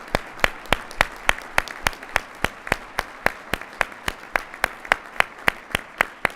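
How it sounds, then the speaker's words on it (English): Audience applause at an airline pilots' association board of directors meeting, a steady run of crisp, fairly close individual claps over a lighter crowd clatter, lasting throughout. "Please join me in giving them a round of applause"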